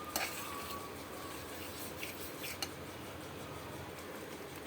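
Blended fried onion and tomato paste goes into a hot pan for paneer pasanda, sizzling steadily while being stirred, with a few soft utensil knocks against the pan.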